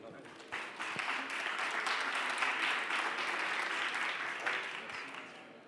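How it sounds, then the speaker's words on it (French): Audience applause fills an awards ceremony for the 2018 Mobility Awards, a steady dense clapping that swells after a quieter start and holds evenly for several seconds before tapering slightly. "Et on peut à nouveau l'applaudir."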